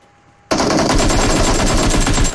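Machine gun fire from the PUBG video game starts abruptly after a quiet moment and continues as a loud, rapid, unbroken burst of shots to the end.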